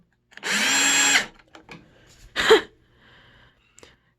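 A power drill unscrewing screws, a sustained whir of about a second followed by a shorter burst and a few light clicks, close and loud without speech.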